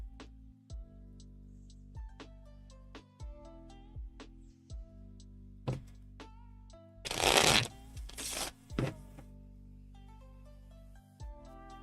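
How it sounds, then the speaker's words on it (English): A deck of Seven Islands game cards from Looney Labs is shuffled repeatedly, with close, crisp riffles and flutters and one louder, longer riffling burst partway through, under quiet background music. "Which means I have to shuffle a lot."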